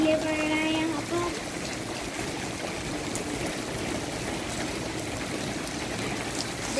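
Rainwater pours and runs across the roof of a house in India during a storm with hail, a steady broadband rushing and trickling wash that holds at an even level throughout, with a voice speaking briefly near the start.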